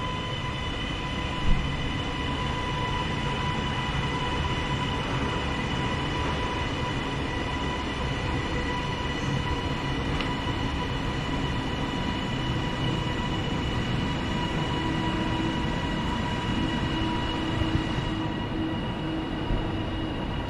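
A freight train rolls steadily through Bolton station, a continuous loud rumble of wagons with a faint whining tone and no break across the whole stretch, no voices present.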